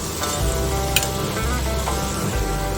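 Prawn curry masala with ridge gourd sautés in a pan, a continuous moderate sizzle under a low hum, with a short sharp scrape partway through.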